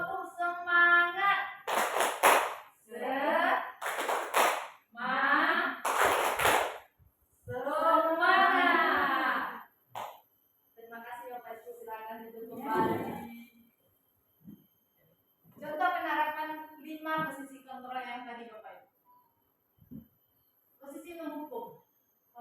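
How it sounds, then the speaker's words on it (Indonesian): Teachers standing together perform a rhythmic spirit clap, with several bursts of loud group clapping in patterned beats alternating with chanting voices. "Tepuk semangat."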